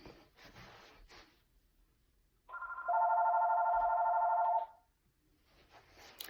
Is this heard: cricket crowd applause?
no